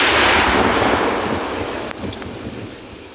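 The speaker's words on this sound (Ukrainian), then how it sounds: "Наші гармати працюють вже більше двох років" A heavy artillery gun blast rolls out at the start and fades into a long rumbling echo, with a couple of sharp distant cracks afterward, near Ukraine's Sumy border.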